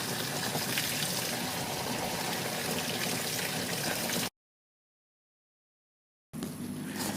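Gasoline pours from an EPA-style gas can with a small strainer through a funnel, during fuel tank work on a Porsche 928. A steady, close gushing pour runs about four seconds, stops for two seconds of silence, then resumes.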